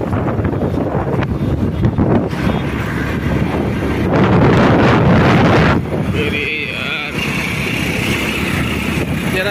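Motorbike riding through a city street with heavy buffeting wind noise on the microphone, rough and loud throughout, with a brief higher whine toward the end.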